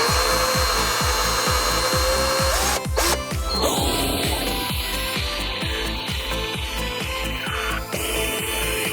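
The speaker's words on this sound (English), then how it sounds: "So now I just got to drill the holes" A power drill bores holes into a homemade toilet paper holder made from toilet paper, the motor whining steadily with rhythmic grinding pulses and a pitch that shifts as the bit bites in, close and loud.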